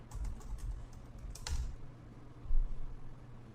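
Keys tapped on a computer keyboard while a password is entered, a few quick soft clicks in short bursts, close and quiet with no talking.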